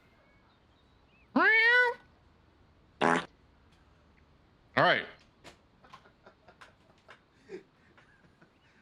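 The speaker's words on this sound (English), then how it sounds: "I'm hearing a cat. Is that your cat?" A house cat meows close by during a video game session: one drawn-out, clear meow, followed by a couple of shorter sharp sounds and quiet speech.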